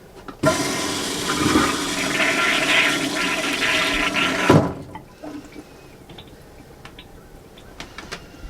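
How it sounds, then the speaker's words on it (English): A flushing toilet in an MCI E4500 bus conversion gives a loud, close rushing flush lasting about four seconds, then stops abruptly, leaving quiet drips and faint trickling. "You can flush it again."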